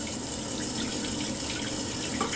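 Tap water runs steadily over a burnt finger at a kitchen sink, a continuous close splashing hiss with no talk.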